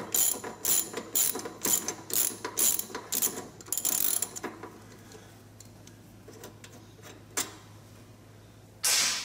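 A ratchet loosens a bolt on a Harley-Davidson brake caliper during a chrome fork swap, a quick rhythmic run of close clicking strokes for about four seconds, then a few scattered clicks and a louder burst at the end.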